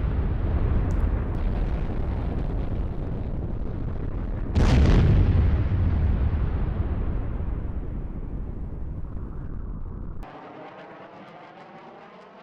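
Cluster bomb explosions from a news animation roll as a loud, continuous rumbling boom with a sharper blast burst in the middle, then die away into a fainter trailing rumble.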